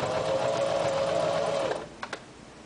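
A sewing machine runs a zigzag stitch on a denim jeans hip seam, a fast steady whir that stops abruptly, followed by two short mechanical clicks.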